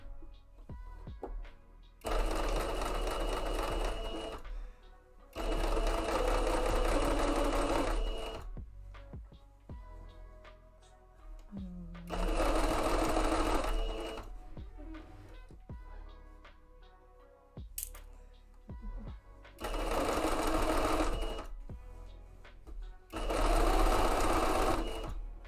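A sewing machine runs in several loud bursts of rapid stitching on a shorts mock-up, each lasting a few seconds and separated by quieter pauses with light handling sounds.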